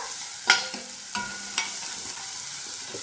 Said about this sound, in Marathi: आता हे आपल्याला 1 मिनिट छान परतून घ्यायचं आहे